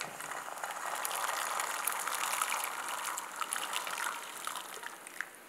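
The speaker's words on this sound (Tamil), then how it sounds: "இப்போ நல்லா கொதிக்க ஆரம்பிச்சிடுச்சு, இந்த பட்டாணியை" Green peas tipped into a pot of boiling water with salt and sugar, giving a steady close bubbling, gushing wash with small splashy ticks and no talk.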